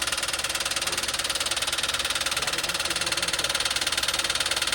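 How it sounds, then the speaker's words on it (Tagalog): A Toyota Wigo engine that will not start properly runs with a steady, rapid knocking pulse over a dense mechanical drone, close and loud and unchanging throughout, with no voices. "Pag nag-knocking na ng ganyan yan, sir, wala."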